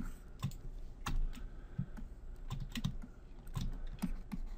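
Computer keyboard keys pressed in a loose, irregular pattern, single clicks and short pairs spread across a few seconds, close and moderately quiet with no voices.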